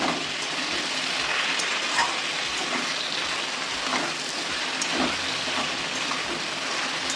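Steady crackling sizzle of potatoes and ridge gourd frying in a pan with salt and turmeric, continuous and fairly loud, with occasional small pops and no voices.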